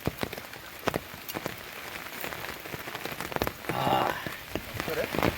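Rain falls steadily on surfaces beside a lake in Palghar, a dense close patter with sharper drips scattered throughout, and faint voices mixed in.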